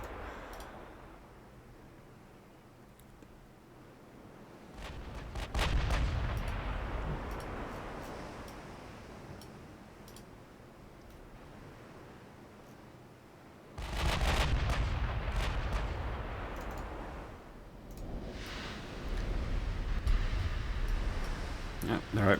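Artillery guns firing in a Korean War strategy video game, booming shots and rumbling blasts in two dense stretches, moderately loud, with a quieter bed of distant fire between them.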